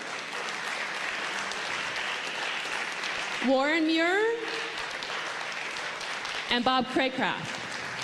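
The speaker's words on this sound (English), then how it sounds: "Will you please give a big round of" Audience applause at a lake-association water summit in Wolfeboro, a soft, steady patter of clapping running throughout while a man announces names over it twice.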